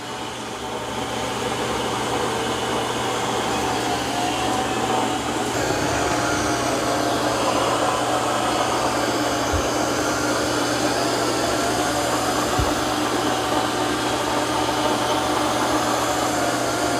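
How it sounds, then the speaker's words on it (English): A Eufy X10 Pro Omni robot vacuum and mop with spinning mop pads cleans muddy paw prints off a floor, giving a steady, close motor whir and airflow hiss that runs unbroken throughout. "All right, so it's cleaning the muddy paw prints."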